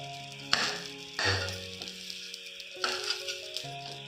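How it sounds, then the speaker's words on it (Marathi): Green chillies roast in a pan with a light sizzle and a few sharp crackles and clinks, moderately close, with tonal hum lines in the background and no talk. "हिरव्या मिरच्या मी थोडेसे आता भाजून घेते"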